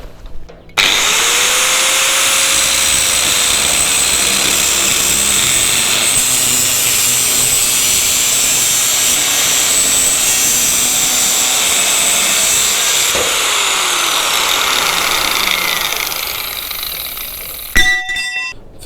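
A power tool cuts through an old metal fence post, a loud sustained grinding whine that runs nearly unbroken for about fifteen seconds before winding down, then brief clatter.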